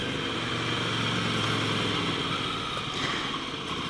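A motorcycle engine hums steadily while riding along a mountain road, a continuous moderate drone with wind noise and no sharp revs, fairly faint and unbroken.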